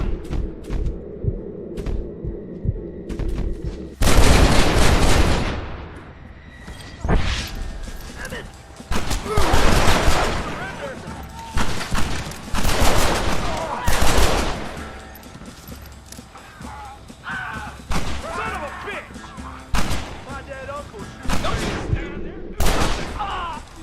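A Red Dead Redemption shootout: repeated loud rifle and pistol shots crack out in irregular bursts, some near and booming, others scattered, mixed with shouting voices throughout.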